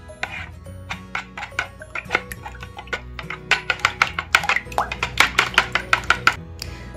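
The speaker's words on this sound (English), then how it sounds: "And go ahead and stir that together." Quick rhythmic clinks of a utensil against a bowl as eggs and milk are stirred, the taps speeding up and growing louder toward the end.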